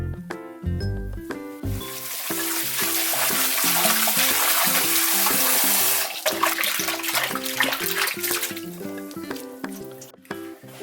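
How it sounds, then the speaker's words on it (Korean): Shredded dried pollock is rinsed in clear water in a kitchen bowl, with close sloshing and splashing that swell into a steady running-water rush before breaking into softer swishes and drips, over light background music. "맑은 물에다가 한번 헹군 다음에 채반에다 받쳐서 물기를 빼주세요"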